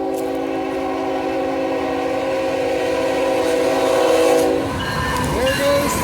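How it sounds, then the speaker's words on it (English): A train rumbles past close by on tracks beside Celilo Park on the Columbia River, its horn blaring in a long sustained chord before fading, with wheels clattering on the rails. "There goes the train."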